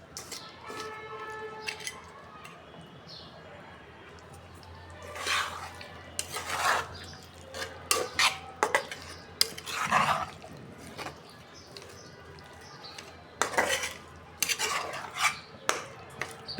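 A spoon stirs and scrapes chana dal as it sautés in a pan, giving irregular metallic clinks and scraping strokes, some louder bursts, over a steady low kitchen background.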